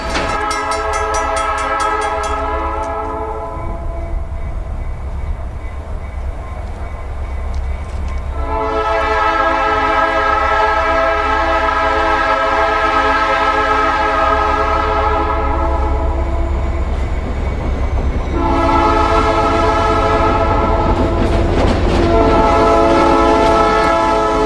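A Norfolk Southern freight train led by Wabash and Indiana and Ohio locomotives, near Springfield, rumbles past steadily with a loud, sustained horn sounding in three long blasts over the constant rolling rail noise.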